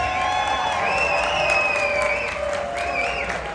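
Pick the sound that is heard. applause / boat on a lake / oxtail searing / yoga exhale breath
applause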